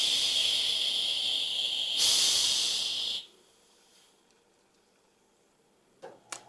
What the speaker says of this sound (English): the spunning valve would just let off pressure, obviously, as it needs to